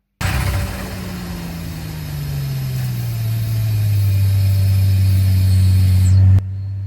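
An Infiniti G35 drift car, turbocharged to about 1.2 bar, holds a loud steady engine drone with a settling low tone and intake hiss, running alone and close before cutting off abruptly near the end.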